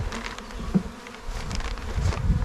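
Honey bees buzz around an open hive during an inspection a week after a package install, a close, fluctuating drone with individual bees swelling past, no voices.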